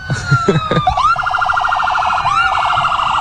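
An ambulance siren wails at a parade, one of several fire department emergency vehicles passing; after a short burst of background noise, a loud, close, rapid yelping tone repeats steadily, with a brief pitch sweep partway through.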